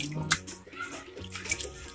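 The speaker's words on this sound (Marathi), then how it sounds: "दुसऱ्यांदा फोडी धुतो आपण." Potato pieces for crispy French fries being rinsed by hand in a bowl of water, with close, soft splashing and sloshing in short bursts and a few brief drips.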